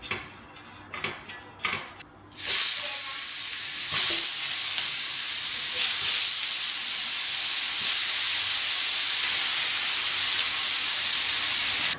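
A few clicks and taps, then a loud, steady sizzle of small round food balls deep frying in hot oil that hisses on continuously with faint occasional crackles.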